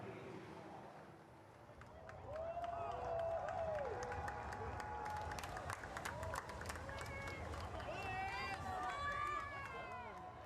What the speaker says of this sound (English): Huge cheer from the crowd.